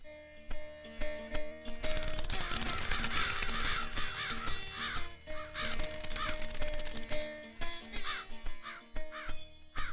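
Crows caw repeatedly and loudly, several birds overlapping in a harsh, busy chorus over a steady hum of background noise.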